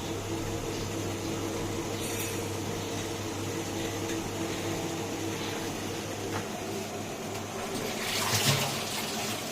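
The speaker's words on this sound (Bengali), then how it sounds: "গরম জল করেছিলাম একটুখানি, গরম জলটাই দিয়ে দিলাম" Hot water is poured into a pot of mukhi kochu (taro) curry cooking on the stove, giving a steady, close rushing and bubbling wash that swells slightly near the end, with no talking.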